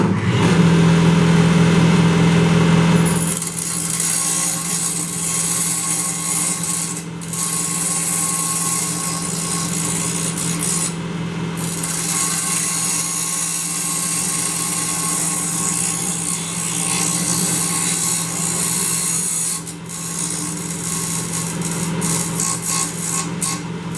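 Power tool grinding a twig out of a large artificial twig tree build, a loud, steady, continuous whine that holds for the whole stretch, with a harsher, brighter onset at the start.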